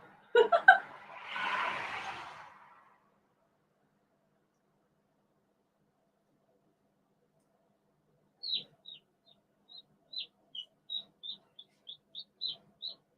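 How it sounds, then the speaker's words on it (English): High, thin chirps of chicks in an incubator repeat in a quick series after a long silence, following a brief burst of noise and voice at the start; close and fairly clear. "I hear chicks chirping."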